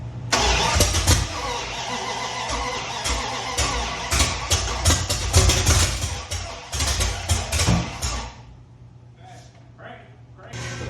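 A 1973 Dodge Charger V8 cranks and catches, running rough and loud up close for several seconds before dropping away, with people talking over it.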